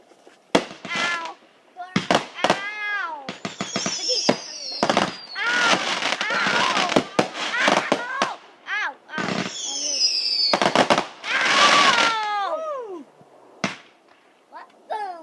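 Big fireworks bursting over a Memorial Day 2013 celebration: a rapid, irregular run of loud, close bangs and crackling volleys, with excited voices shouting and crying out between and over the blasts.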